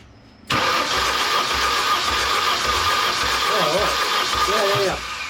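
A rare, long-neglected BMW M car engine is cranked over by the starter during a compression test, a loud, rhythmic churning that kicks in suddenly and runs steadily for several seconds while people talk nearby.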